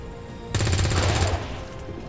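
A short burst of rapid automatic gunfire aimed at a turret in the XCOM 2 video game, a loud rattling volley lasting under a second before it cuts off.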